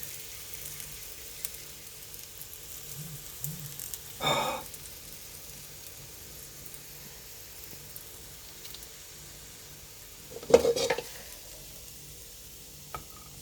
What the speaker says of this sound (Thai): แล้วตักใส่จานเลยค่ะ